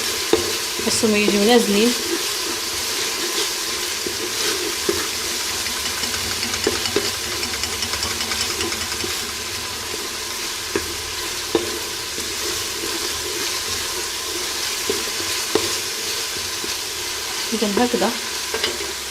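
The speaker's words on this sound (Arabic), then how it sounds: "انا كنقوم بتشحير البصله ومطيشه مزيان مع التوابل، كنخلطهم مزيان" Onion sizzles and fries with spices in a pot while being stirred, a steady close crackle with occasional scraping stirs; a person speaks briefly.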